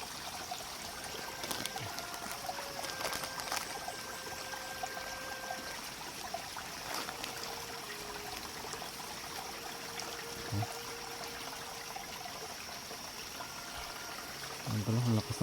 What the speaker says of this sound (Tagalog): Ang pala, ang lakas ng tubig oh.